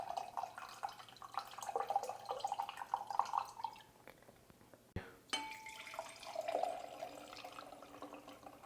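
A drink trickles into a small cup in quiet, uneven pours, soft splashing and dripping with short pauses between streams.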